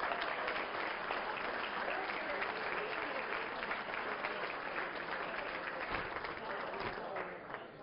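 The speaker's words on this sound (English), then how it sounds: "I think we got to give a nice round of applause to Reds, Herb Price and the Reds Astro team for what they've done." A banquet audience applauds the Reds Astro team at a USSSA Nationwide Conference awards dinner, sustained dense clapping at steady volume throughout, easing slightly at the end, with faint voices mixed in.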